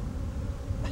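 Honeybees, including a Cordovan Italian and a Walker queen, buzz in a dense, steady hum as bulk bees are poured out of their boxes, close and unbroken.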